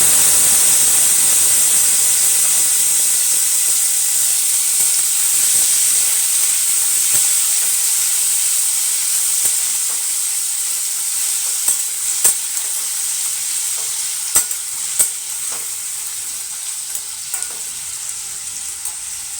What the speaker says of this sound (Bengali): 4টে টমেটো রেখেছিলাম ছোট ছোট করে কেটে কেটে সেইগুলো দিয়ে দিচ্ছি এখন